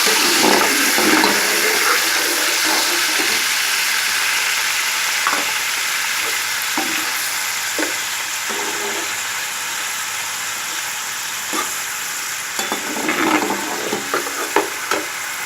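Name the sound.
onions frying in hot oil in a kadhai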